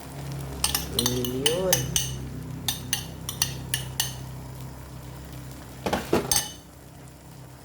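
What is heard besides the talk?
egg frying with corned beef in a pan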